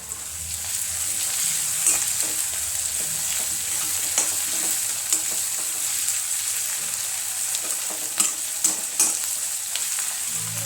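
Chicken fries in a pan with a constant, close sizzle of hot oil, broken by frequent scraping and clinking as it is stirred, with no voices.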